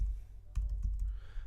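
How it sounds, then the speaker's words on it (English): Keys tapped on an iPad keyboard, a few quick soft clicks in a short irregular burst over a low steady background hum. "I'm just typing, just about as fast as I see."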